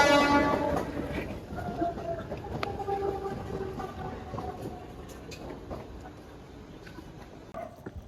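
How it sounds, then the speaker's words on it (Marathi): A Panvel-bound local train at a station: a low rumbling roll of the cars with squealing wheel and brake tones fading over time, set in a busy platform ambience with faint voices in the background. "पनवेल ट्रेन लागली आहे."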